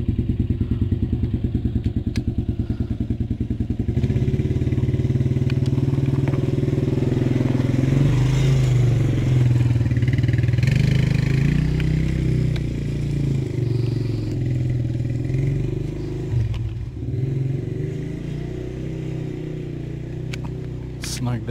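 DB Tao pit bike engine idling and revving loudly up close, a steady low rumble that rises and swells with throttle, with some clatter and thumps and a voice talking over it.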